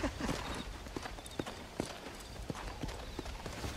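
Horse hooves clip-clopping in Red Dead Redemption, a steady close rhythm of sharp hoof strikes on hard ground against a low background bed, with no talking heard.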